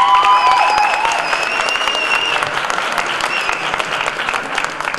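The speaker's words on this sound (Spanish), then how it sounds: "Aplauso para López." A large audience at a book presentation at the Guadalajara book fair claps loudly and steadily, with whistles and high calls rising above the dense applause for a few seconds.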